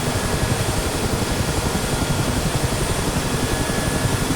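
A Mi-8MTV2 helicopter's engines run at full throttle in the DCS flight simulator, a steady, dense turbine roar with rotor thump throughout, loud and unbroken, with no voices.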